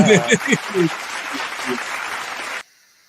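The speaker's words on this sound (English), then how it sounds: "You got to get the golf clap on some of those." A soft golf-style round of applause rises under a voice on a sports betting talk show, holds as a light, even patter, then cuts off abruptly near the end.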